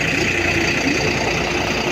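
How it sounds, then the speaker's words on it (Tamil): The rear engine of a Volvo 9600s multi-axle coach runs on a highway trip. It gives a close, continuous droning hum at steady loudness, with a faint vibrating rattle and no speech. "rear engine sound"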